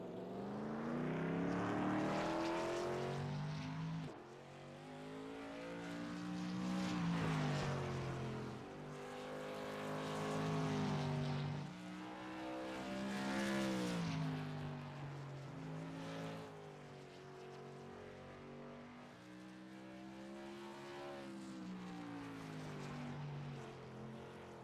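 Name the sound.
modified race car driving laps at Oxford Plains Speedway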